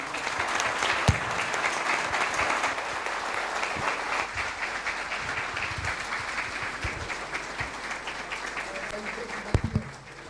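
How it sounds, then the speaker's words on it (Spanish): Sustained audience clapping at a book presentation during a radio station's anniversary event, a dense, even patter lasting about ten seconds with voices mixed in and a few louder claps near the end. "Fuertes esos aplausos para los presentes"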